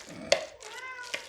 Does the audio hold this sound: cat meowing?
yes